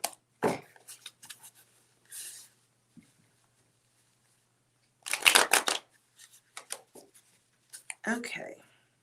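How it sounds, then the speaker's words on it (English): Tarot cards being shuffled in short, crisp riffling bursts, a strong one near the start and a louder flurry around the middle, separated by quiet gaps, with a few soft vocal sounds and handling noises. "I'm going to shuffle this again."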